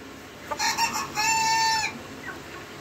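Farm chickens in a poultry coop, with a close rooster crow lasting about a second and a half, preceded by a few sharp clucks and followed by a faint cluck.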